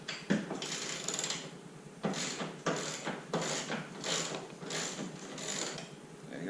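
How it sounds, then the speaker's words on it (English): Ratcheting wrench backs a bolt out of a Ford Bronco door, its clicking pawl rattling in several close, loud bursts separated by short pauses, alone with no voices. "So I'll get this bolt out of here as well."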